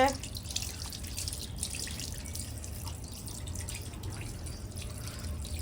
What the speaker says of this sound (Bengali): দেখো এখানে মাছ ধুচ্ছে এখন মুড়ো ধুচ্ছে